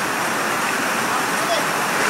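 Floodwater rushing over a road in Noveleta, turning the street into a river: a loud, continuous broadband roar with no letup, close and dense.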